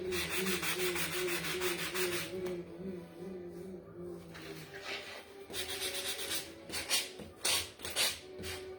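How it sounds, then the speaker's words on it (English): Rough, rhythmic scraping of a sanding block rubbed back and forth over wood in short repeated strokes, outdoors in the cold, close up, with a brief quieter pause midway. "My sanding blocks, like always, are not that good."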